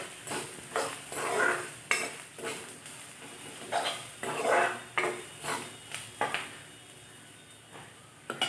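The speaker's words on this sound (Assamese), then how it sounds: "পিঁয়াজৰ লগতে ধুনীয়াকৈ মছলাখিনি ভাজি ল'ব লাগিব অকণমান।" Spices and onion frying in a pan for an egg curry: soft sizzling under repeated clinks and scrapes of a utensil stirring against the pan, fairly quiet and close.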